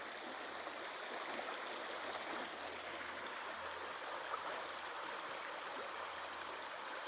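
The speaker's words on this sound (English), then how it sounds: "Sounds of the creek" A creek flows steadily nearby, a continuous rushing and babbling of water with no voices, even in level throughout.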